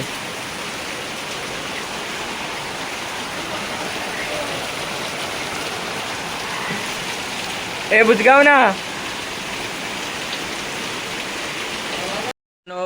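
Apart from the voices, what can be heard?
heavy rain falling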